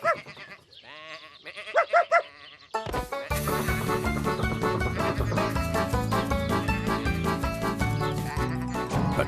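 Sheep in a Tractor Tom cartoon bleat several times while they are being rounded up, close and clear, before loud background music takes over.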